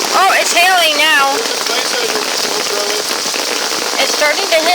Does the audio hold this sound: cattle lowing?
no